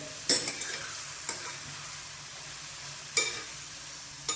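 Tomatoes and garlic cooking in a pan give a soft, steady sizzle, broken by a few sharp stirring scrapes and clinks near the start and again later.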